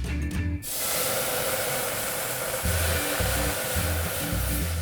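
White wine poured into a hot pot of toasted garlic for fondue, giving a loud, steady broadband sizzle and hiss that starts abruptly and continues throughout.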